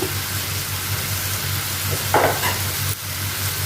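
Prawn thokku masala with chilli powder and garam masala sautés in a pan over low heat, giving a loud continuous sizzle with a brief scraping stir near the end, close up and with no voices.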